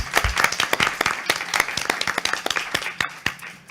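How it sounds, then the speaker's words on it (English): An audience at a livestreamed energy-week lightning-talk event applauds its speakers, a close, lively spatter of many clapping hands with sharp individual claps standing out, continuous for several seconds. "let's give another round of applause for our speakers."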